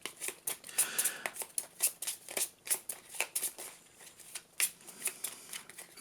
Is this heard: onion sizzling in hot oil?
no